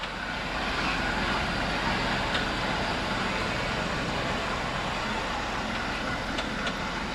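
An Acura TL engine idling with a slight popping, heard as a steady, broad rumble with faint, intermittent ticks over it and no voices.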